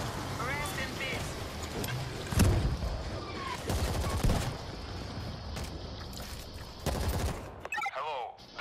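Rapid bursts of gunfire in the video game World War Z crackle over steady background noise, with several loud volleys and talking voices mixed in.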